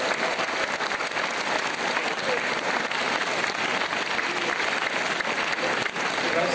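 Loud, steady applause from a school audience at a sports prize-giving ceremony, dense continuous clapping filling the hall without a break for the whole stretch.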